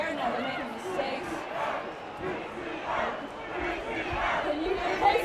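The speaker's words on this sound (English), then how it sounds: "Can you hear the KCL cheer?" KCL supporters at a varsity rugby match against UCL raise a sustained, swelling crowd cheer and chant from the stands, distant and diffuse, with a commentator talking over it.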